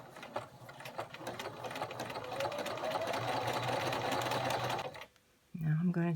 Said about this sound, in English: I'm going to set it to the buttonhole feature. And I'm going to start sewing until I get down to the other pin.